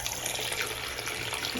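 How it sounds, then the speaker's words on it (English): Cold water runs steadily from a Pfister faucet into a sink, a continuous close splashing flow with no talking. "There is cold water coming out."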